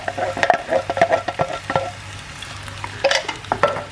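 Chopped tomatoes are stirred into a pan of sizzling meatballs with cherry tomatoes, giving close, wet scraping and bubbling sounds in uneven bursts over a soft frying hiss.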